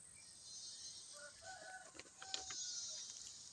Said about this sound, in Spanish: y el gallo es el que anuncia el despertar.